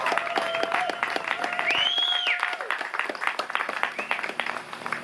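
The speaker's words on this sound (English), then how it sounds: "let's one more time give a big thank you and a round of applause to Ed and Lois for hosting us tonight" A small audience applauds the hosts Ed and Lois at a home concert, steady clapping throughout, with a brief rising whistle and a voice speaking partway through.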